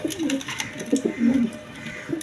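Tulip pigeons coo in a series of soft, low throaty calls, close and fairly clear, with faint higher chirps from other birds behind.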